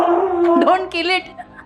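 Dogs playing indoors, with one letting out a loud, wavering howl close by that rises and bends in pitch, followed by shorter whimpering yelps.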